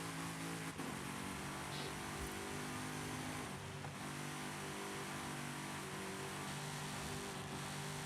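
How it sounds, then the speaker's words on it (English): A V8 car engine in a racing video game revs and drones steadily at close range, with a brief shift-like dip near the start; no one speaks. "that V8 sounds annoying. I'm not keeping it."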